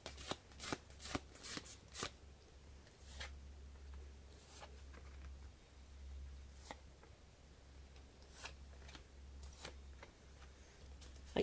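Tarot cards, major arcana only, are shuffled by hand in quick, crisp riffling bursts, close and fairly quiet, with short pauses between rounds and no talking.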